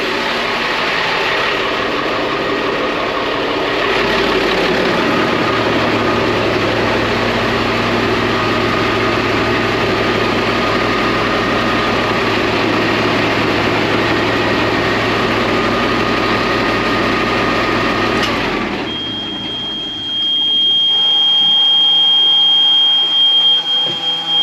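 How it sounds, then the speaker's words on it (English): Boat engines, generator and blowers run with a steady loud drone that cuts off during a fire suppression shutdown test, leaving a quieter hum and a high steady fire alarm tone. "Generator stopped, engines have stopped, blowers have stopped, and we have a fire system alarm going off"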